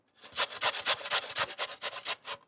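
Sweet potato shredded on a hand grater: about a dozen brisk, evenly spaced scraping strokes, close and crisp, each a short rasp with brief gaps between.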